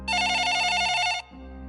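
A desk telephone rings loudly and steadily in one long continuous electronic burst, then cuts off abruptly, leaving a quieter low tone behind.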